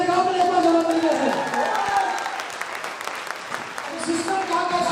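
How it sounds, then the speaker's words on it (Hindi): Audience at a company first-anniversary celebration in Prayagraj claps in a burst of applause that fades, then picks up again near the end, mixed with a raised voice speaking over it. "सिस्टम के साथ ताली बजाएंगे तरीके से।"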